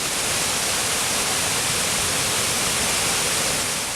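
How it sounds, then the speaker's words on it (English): Godafoss waterfall in Iceland, a dense, constant roar of falling water, loud and unbroken, with no voices. "people were at awe while enjoying the view and listening to the sound of the falling water."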